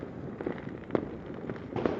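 Chinese New Year fireworks in Vietnam pop in scattered, distant bangs over a steady rumble of background noise, with a couple of sharper reports standing out.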